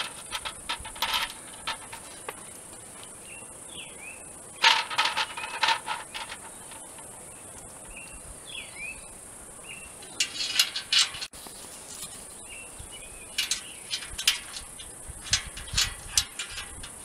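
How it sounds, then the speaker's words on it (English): Bolts and nuts being fastened on replacement stair mounts for a Raptor 300MP toyhauler, heard as intermittent close metallic ratcheting and rattling bursts with brief pauses, alone against a faint steady hiss. "So I'm gonna bolt and nut the first two,"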